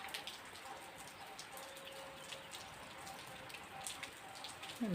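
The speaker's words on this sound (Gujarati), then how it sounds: "આમ જોઈ લો વરસાદ અતિ છે" Heavy monsoon rain pours steadily into a home courtyard, a dense, even hiss of drops on the ground and surfaces with no pauses and no voices, faint and distant.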